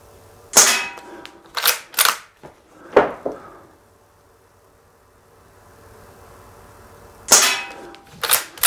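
Shots from a lever-action BB rifle, an Umarex Legends Cowboy or a Daisy Red Ryder, fired at a target: sharp close cracks in small clusters with quiet gaps between, and a metallic clack from cocking.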